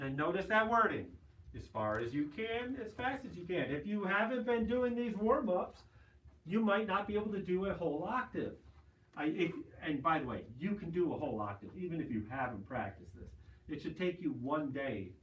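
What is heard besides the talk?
No everyday noises stand out.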